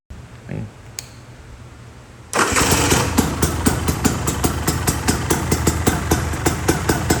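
After a quiet start with faint clicks, a four-stroke trail motorcycle engine fires up and keeps running with a steady, even, rapid putter, close by, without vibration.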